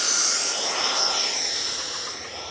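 E-flite F-14 Tomcat RC jet with twin 40mm electric ducted fans taking off in calm wind, a steady high-pitched whine and rushing roar that holds loud and then slowly fades as it pulls away.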